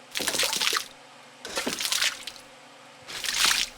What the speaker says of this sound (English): And some water splash